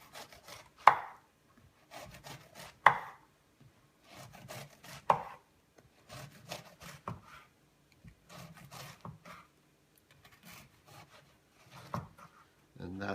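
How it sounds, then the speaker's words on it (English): A knife cuts through a baked biscotti loaf on the diagonal, giving several sharp crunching chops spaced a couple of seconds apart, then softer scraping and handling sounds. "you're going to cut them on a nice angle all the way through"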